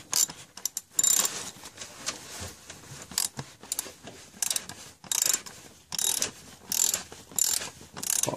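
A ratchet clicks in quick repeated bursts while tightening a fastener during a Mercedes thermostat replacement. The pawl clatter is close and crisp, in short irregular runs with brief pauses between strokes.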